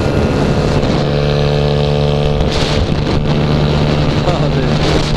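A 120cc stroker pit bike with a new Taida exhaust pipe runs loud and steady while riding, its engine drone holding near and constant under wind buffeting, with voices speaking over it.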